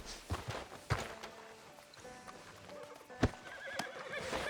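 A horse whinnies and hooves clip-clop on the ground in Red Dead Redemption 2, a few scattered hoof thuds and a sharp whinny against quiet background ambience, fairly faint overall.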